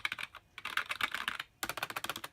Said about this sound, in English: Nice typing feel to it for a rubber dome.